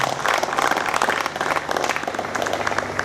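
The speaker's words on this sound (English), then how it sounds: "Applause." Sustained applause from an audience at a university event livestream, steady and fairly loud throughout with dense clapping and no break.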